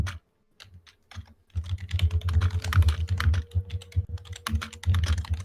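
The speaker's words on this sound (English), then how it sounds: "Furious typing." Rapid, furious typing on a computer keyboard clatters close by as a dense run of key clicks that starts after a brief pause and keeps going without letup.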